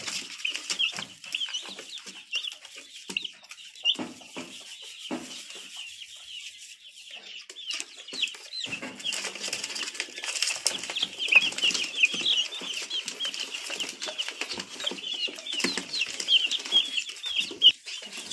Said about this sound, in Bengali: এই যে সুন্দর মুরগিগুলোকে আমি ভ্যাকসিন দিয়ে আমার এই বোর্ডারের মধ্যে ছেড়ে দিচ্ছি